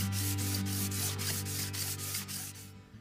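Sandpaper rubs back and forth over a metal combination square in rapid rhythmic strokes, close and moderately loud under a steady low hum, stopping just before the end.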